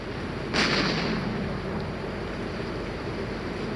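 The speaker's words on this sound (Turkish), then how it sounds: "Bak atıyor bombayı." A bomb thrown into water explodes in GTA 3, a muffled burst followed by a watery rush that fades into a steady background hum.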